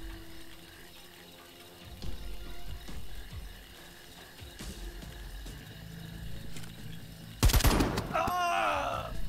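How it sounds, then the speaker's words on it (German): Gunshots in the video game Jagged Alliance: Rage!: a few scattered distant shots over a low steady background, then a sudden loud burst of rapid gunfire near the end followed by a metallic ring. "Drei Schüsse, einer wird treffen."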